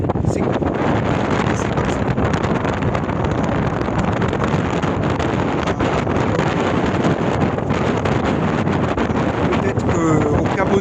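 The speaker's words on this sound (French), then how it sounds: "il y a quand même au moins 20 nœuds de vent" Strong wind of about 20 knots blows steadily against the microphone on a sailboat at sea headed into the wind, a loud continuous rushing roar with water and hull noise underneath throughout.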